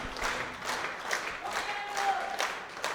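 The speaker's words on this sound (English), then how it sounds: "Everyone is on their feet, clapping, stamping" Crowd noise at a European Open powerlifting championship as a lifter goes for a bronze medal, a steady wash of audience clapping and cheering with rhythmic swells that suggest stamping, loud and continuous throughout.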